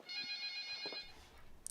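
A telephone rings in an old traditional Korean house with a bright electronic trill that sounds about a second and then stops, fairly faint and heard alone, with a small clatter afterward.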